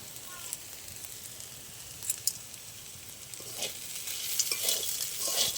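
Kulfi sag greens fry gently in a pan with a soft, continuous sizzle and scraping stirs, growing slightly louder and crisper toward the end, with a voice briefly talking in the background.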